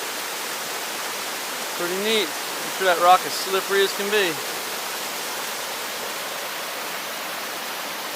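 Steady, even roar of a waterfall in Whiteoak Canyon, Shenandoah, heard from nearby as a constant rushing hiss, with someone speaking briefly over it partway through.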